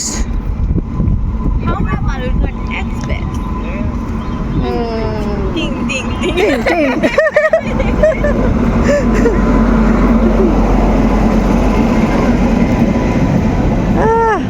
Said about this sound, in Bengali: এই যে আমাদের ট্রেন ঢুকে গেছে আলুরঘাট এক্সপ্রেস